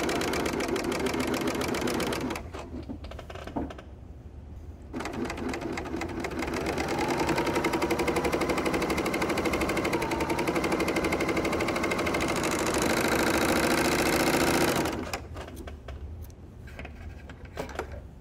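An L890 overlocker sews a thread chain with a loud, continuous mechanical whir and rapid needle clatter, stopping briefly near the start and easing off toward the end.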